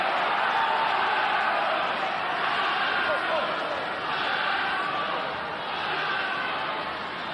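A rugby stadium crowd at Munster v Glasgow Warriors roars steadily in a broad, sustained wash of cheering that holds loud for several seconds and eases slightly near the end.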